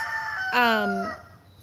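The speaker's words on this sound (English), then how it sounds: "Now my roosters are talking." A rooster crows once, loud and close, a long harmonic call that rises then drags out and falls away, with soft background noise around it.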